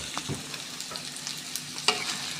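Ginger paste being stirred in a frying pan for potato and chicken curry, a continuous sizzle broken by light scraping strokes and one sharper clink near the end.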